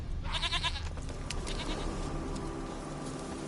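A goat bleats loudly in a few wavering cries over a dense, busy background of ambient noise in the video game The Witcher 3.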